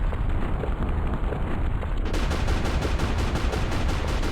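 Rapid, steady cannon fire from a ship in the video game Freedom Planet 2, a loud continuous barrage of booming shots with no talk.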